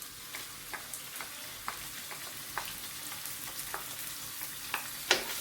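Yellow spice paste sautéing gently in a hot pan for nasi goreng teri Medan, a steady low sizzle with soft scattered ticks and scrapes of stirring throughout.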